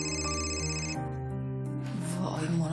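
A telephone rings in a home scene, a steady electronic ringtone with bright sustained tones playing continuously, fairly loud and alone before a shift in tone near the end.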